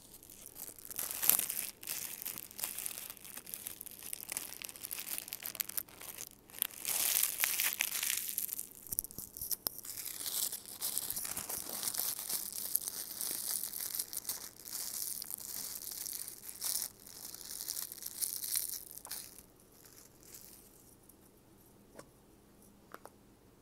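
Wrapping paper crinkles and crumples close to the listener for over twenty seconds in a steady crackling stream, with a brief quieter gap near the middle and a fading, sparser tail.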